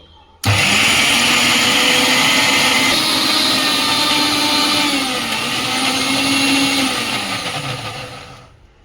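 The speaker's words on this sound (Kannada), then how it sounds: "ಸ್ವಲ್ಪ ನೀರು ಹಾಕಿ ರುಬ್ಕೊಳ್ಬೇಕು ಸಣ್ಣಕ್ಕೆ." A mixer grinder runs loud and steady, grinding a dried red chilli and coconut chutney with a little water, its motor pitch dipping and wavering near the end before cutting off.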